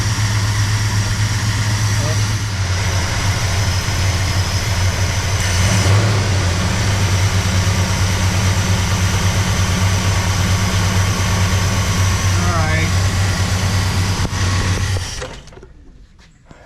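A 1967 Plymouth Belvedere II V8 sits at a steady, loud fast idle with the air conditioning running, a constant low rumble throughout before cutting off near the end; people talk over it.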